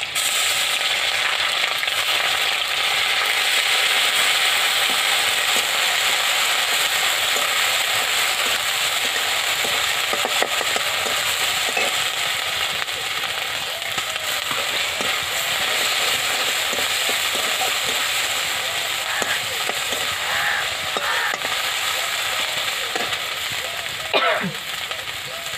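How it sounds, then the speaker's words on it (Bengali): Green chillies and grated coconut fry in hot oil, a steady broadband sizzle running the whole way with faint scraping stirs and a few sharp pops near the end. "কাঁচা লঙ্কাগুলো তেলে দিয়ে দিলাম। নারকেলটাকে ভেজে নেব তেলে।"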